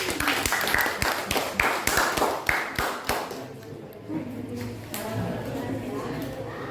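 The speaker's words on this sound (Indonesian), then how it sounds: "Silahkan maju, beri tepuk tangan." Students in a classroom give a group of presenters a round of applause, with sharp, fairly regular claps for about three seconds that fade into murmuring and a voice.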